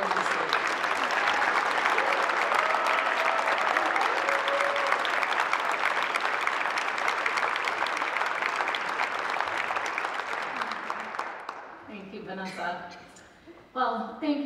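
A large gala crowd at the Fox Cities Chamber Pinnacle Awards applauds steadily as Heather Schimmers is welcomed to the stage, with dense clapping that fades after about eleven seconds into a few scattered claps and voices.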